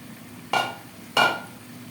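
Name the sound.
stirring taro (ol kochu) cooking in a pan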